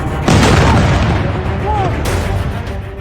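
A heavy explosion blast from news footage of an Iranian attack on Israel, a loud, sustained booming roar with rumbling, crackling debris and a second burst partway through.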